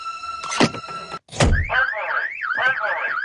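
A car alarm blares in a burst of loud warbling, cycling tones after a couple of door thunks, the siren sweeping up and down close by.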